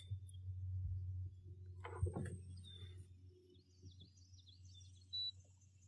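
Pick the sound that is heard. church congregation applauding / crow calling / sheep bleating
crow calling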